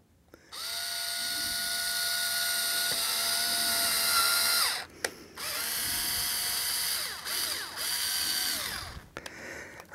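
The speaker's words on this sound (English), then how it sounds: "we'll go ahead and drill some pilot holes here" A power drill whines at high speed while boring pilot holes for a model railroad DCC system install, in three close bursts with short pauses between them.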